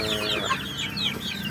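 Chickens cluck close by on a small chicken farm, a dense overlapping chorus of short clucks and calls, loud and steady, with no voices.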